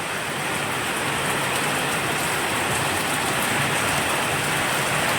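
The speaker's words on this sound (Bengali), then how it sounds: "কি জোরে বৃষ্টি পড়ছে।" Heavy rain pours down steadily outside after a clear morning, a dense, even rush of drops that holds at the same loud level throughout with no voices.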